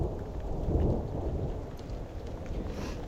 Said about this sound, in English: that thunder was about as loud as a Boeing 747 taking off, like right next to you